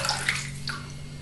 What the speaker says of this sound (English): So I take my washcloth and I wet it.